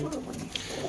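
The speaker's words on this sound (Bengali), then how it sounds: "দেখতে পাচ্ছি সব কবুতরগুলো ভালো আছে, আর খোপের ভেতরে আমরা ঢুকে আছি, তার জন্য এরা একটু ছটফট করছে," Pigeons shift restlessly inside their coop while people are in it with them, giving soft coos and rustling close by under a voice talking.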